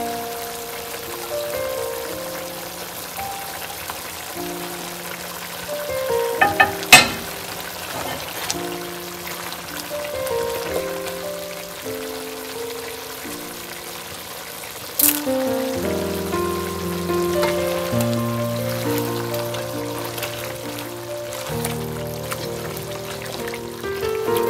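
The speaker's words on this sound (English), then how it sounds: "now we're adding the carrots and the potatoes and cook it for another 15 minutes" A pot of stew with carrots and potatoes in gravy simmers, a steady soft bubbling and watery patter throughout, with faint clinks and background music-like tones underneath and no talking.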